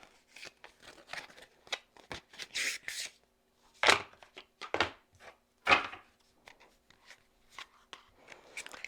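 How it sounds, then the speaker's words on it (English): Becoming Dragon oracle cards being handled and shuffled close up, a run of crisp papery slaps and riffles in uneven bursts with brief pauses between. "Now I'm pulling out my Becoming Dragon cards."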